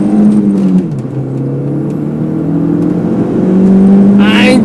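Small turbocharged hot hatch accelerating hard from a rolling start, heard from inside the cabin: a loud, steady engine drone rising in pitch through gear changes, with a voice briefly audible.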